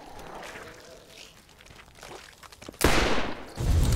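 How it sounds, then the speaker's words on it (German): Revolver gunshots in the Borderlands video game, a loud sudden burst of fire after quiet ambient game noise, then a second blast trailing off at the end. "Dann verbrauchen wir mal hier mal ein paar Schuss von dem Revolver"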